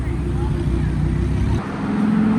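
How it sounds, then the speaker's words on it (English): A Lamborghini Huracan supercar with yellow brakes rolls up at a supercar meet, its steady low engine drone filling the scene before easing off partway through, with crowd noise around it. "Got a very nice Huracan rolling up"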